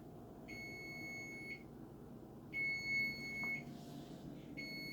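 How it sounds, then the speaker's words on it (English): Oven timer beeper going off while brownie bites bake, sounding as repeated bursts of steady high electronic beeps separated by pauses, with a faint clunk between, no talking. "Let's turn that beeper off."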